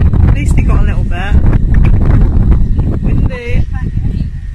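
Strong wind buffets the microphone at an outdoor seal sanctuary, a loud continuous rumbling roar with voices talking over it.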